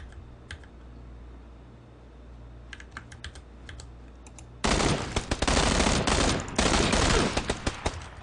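Gunfire in the shooter game PUBG (Battlegrounds): after a quiet stretch with faint scattered clicks, a loud, dense burst of rapid shots erupts and keeps hammering in close, sustained volleys to the end.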